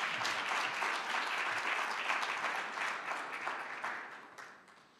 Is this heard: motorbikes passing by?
no